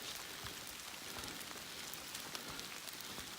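Steady rain patters on surfaces along the Appalachian Trail, a soft, even hiss dotted with faint scattered drops, quiet and continuous with no voices.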